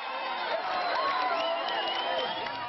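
Large outdoor crowd of four to five thousand supporters cheering and calling out for the Malagasy president during a walkabout, a dense, steady roar of many voices with scattered shouts.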